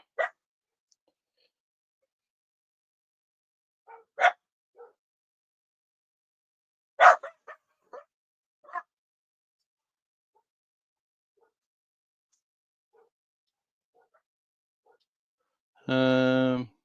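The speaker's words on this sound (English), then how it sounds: "your Gracie barking in the background." A few scattered, sharp dog barks at a distance, separated by long quiet gaps, with one longer howl-like yelp near the end.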